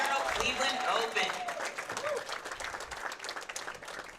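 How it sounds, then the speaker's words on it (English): Audience applause fills a women's professional bowling championship finals, a dense wash of clapping that fades gradually, with a voice carrying over it. "Let's give these ladies a huge round of applause."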